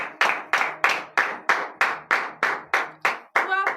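Rhythmic unison clapping from a congregation at a morning prayer service, about a dozen evenly spaced sharp claps with fading tails, ending in a brief tonal vocal sound.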